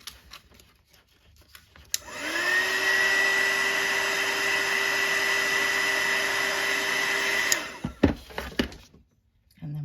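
A heat tool blows hot air over a bump on cured resin, a steady whining hiss that runs for about six seconds before cutting off, followed by a few clicks and soft handling sounds.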